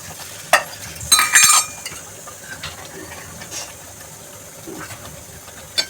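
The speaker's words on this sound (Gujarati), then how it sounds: "ઘી નાખી અને હલાવી અને આપણે ઢાંકીને 10 મિનિટ રાખી મૂકવાનું." A spoon stirs ghee into ghens, a traditional Gujarati porridge, in a pot, giving a few sharp scrapes and clinks near the start followed by softer, sparse stirring sounds.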